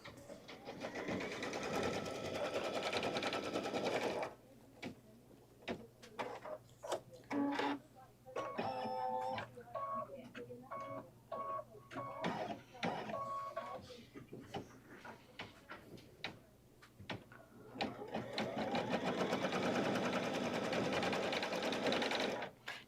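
A Kimberbell embroidery machine stitches mitten block cuffs in dark blue fabric, with rapid rhythmic needle chatter in long runs broken by pauses, short bursts and clicks, and someone talking quietly between the stitching.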